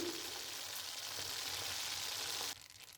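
Tomato sauce with dry basil cooks in a pan, giving a soft, steady sizzle and gentle bubbling with no voices, then dropping away abruptly near the end.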